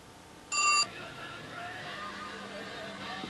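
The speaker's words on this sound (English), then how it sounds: "the phone rings" Telephone in a small workshop rings once in a short, bright burst, loud and close, before the room falls back to low background hum with faint scattered noise.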